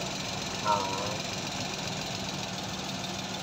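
A multicab's surplus Japanese engine idles roughly, a steady low mechanical hum with faint knocking pulses, heard close but moderately quiet, with a brief vocal utterance near the start.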